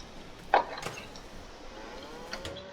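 Cows mooing in a Farming Simulator game on a dairy farm: a short, fairly quiet low moo stands out near the start amid faint background ambience, with a softer lowing call near the end.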